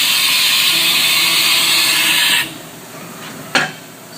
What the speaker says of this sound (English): Do a tool change here, run a couple through.